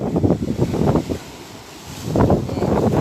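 Beach wind buffets the microphone in low, rumbling gusts, steady and close, with a brief lull midway before picking up again.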